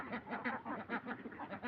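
Domestic ducks quack in a rapid, overlapping chatter, several birds close together, fairly faint, with no pauses across the short stretch.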